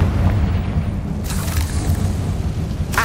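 In the video game Hogwarts Legacy, a Confringo fire spell explodes in a loud, sustained booming blast, a dense low rumble with a brief crackling burst near the start and another near the end.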